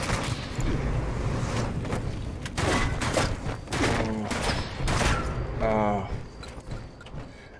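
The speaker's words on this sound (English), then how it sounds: "That shotgun is tough." Shotgun blasts in the video game Fallout 76, several sharp booming shots with clattering mechanical sounds between them, close and loud, with someone talking over the action.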